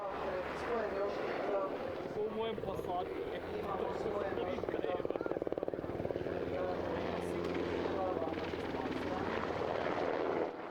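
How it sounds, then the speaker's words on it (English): A UH-60 military helicopter flies at the Varazdin airshow in Croatia, its steady rotor thump and turbine whine continuous throughout, heard beneath someone talking. "The UH-60 is used all over the world for troop transport and medical evacuation within the military"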